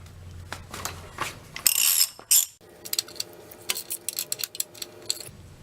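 A socket wrench ratchets on a race bike's axle nut, a close run of quick metallic clicks and mechanical clatter with a brief louder burst partway through, no voices.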